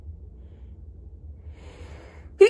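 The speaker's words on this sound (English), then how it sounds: "That was a sneeze." A quiet breathy inhale builds over low rumble, then a short, sharp sneeze bursts out at the very end.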